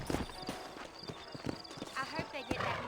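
Steady clip-clop of saddled horse hooves walking at an even pace in Red Dead Redemption, close by, with a voice talking over the hoofbeats.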